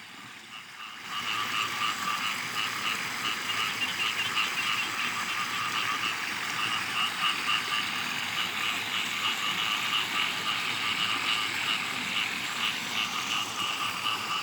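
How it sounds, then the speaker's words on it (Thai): Chorus of frogs croaking across rain-flooded rice paddies at night, a dense, continuous rhythmic pulsing that fills the field from near and far without pause. "กบเขียดร้องลั่นทุ่งเลยครับ"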